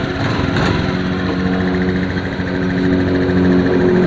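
A small engine holds a steady, busy drone and is throttled up to a higher RPM, its tone rising slightly and staying loud and close throughout, with no voices.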